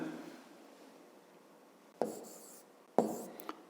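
A pen or pencil scratches on paper while working a fifth-grade maths exercise, with a soft stroke early on and then a few sharper, brief scribbles near the end.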